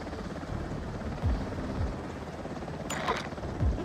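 An aircraft, heard as a helicopter, lands in Delta Force Hawk Ops, its rotor rumble continuous and loud, with a short burst of higher-pitched noise near the end.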